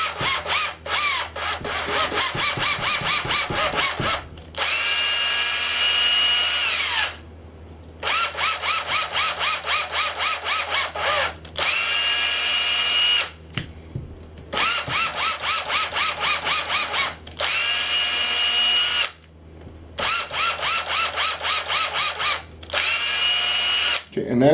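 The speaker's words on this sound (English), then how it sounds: "now we're going to put a tap in. We're going to run it on low with the lowest setting on the clutch" A power drill drives an M3 tap on its lowest clutch setting, whirring loudly in several separate bursts of a few seconds each with short pauses between, close by and without talk.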